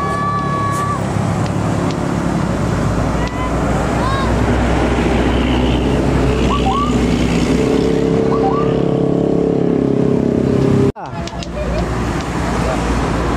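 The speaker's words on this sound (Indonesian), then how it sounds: "Kita sambut bis Budiman dari Karangpucung tujuan Bandung." A Budiman intercity bus running from Karangpucung to Bandung passes along a busy road, a loud, steady engine and road roar close by, with other traffic around and a sharp cut near the end.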